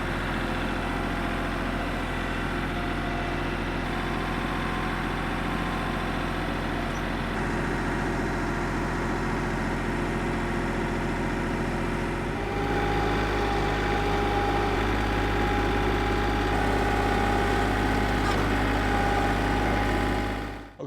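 Tractor engine running steadily close by while lifting a load on its forks on a hillside, a continuous low rumble that steps up in pitch and load partway through, with no voices.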